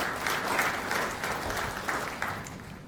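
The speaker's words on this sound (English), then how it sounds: "we applaud Range for this" An audience at the official opening ceremony of the Kempinski hotel in Dominica applauds steadily, a fairly even wash of many hands clapping at moderate distance for a few seconds.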